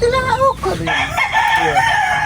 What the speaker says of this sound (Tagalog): Nagagalit po si Teo sa mga manok. Maingay daw po